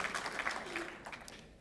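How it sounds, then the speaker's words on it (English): An audience at a school district state-of-the-schools event applauds, a brief wash of scattered clapping heard from a distance and fairly soft. "Pause for applause."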